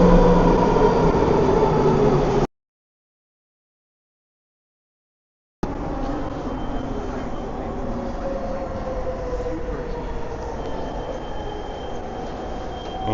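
A Vancouver SkyTrain passing with rumbling wheels and a high squealing whine, broken by a few seconds of dead silence before the loud rolling noise resumes and carries on steadily.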